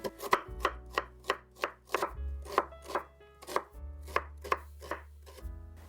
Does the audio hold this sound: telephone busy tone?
no